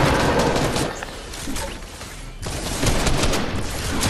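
A dense, crackling barrage of rocket blasts from a video game fills the clip with continuous overlapping bangs, dipping briefly in the middle before resuming at full strength.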